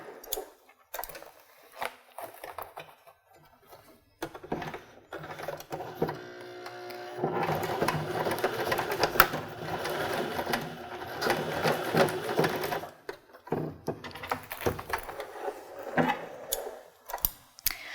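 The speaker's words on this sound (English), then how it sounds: "you should be fine sewing over the nylon" A sewing machine stitches over nylon zipper tape for a cork-fabric zippered pouch, with a steady rapid mechanical whirr and ticking in bursts, starting and stopping, close and clear.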